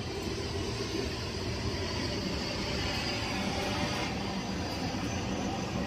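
A passenger train pulls away from Gambir station in Jakarta, a steady broadband rumble and hiss of rolling wheels and engine that stays loud and continuous throughout, with no talk.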